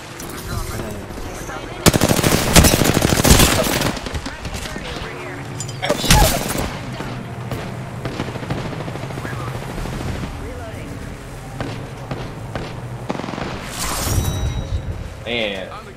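Video game gunfire, loud bursts of rapid automatic shots with single cracks between them, close and prominent, while a player talks over parts of it.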